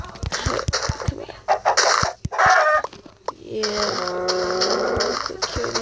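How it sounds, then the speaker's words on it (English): Chickens clucking in the Minecraft video game, several short repeated clucks and squawks close by, with a voice speaking briefly over them. "We'll kill all these chickens."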